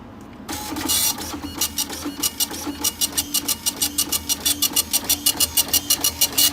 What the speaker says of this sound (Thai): เครื่องก็จะพิมพ์ค่าปัจจุบันออกมานะครับ